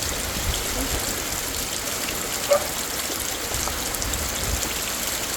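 Heavy typhoon rain pours steadily with gusting wind, a dense, even wash of noise throughout with a brief louder knock partway through, and no one speaking.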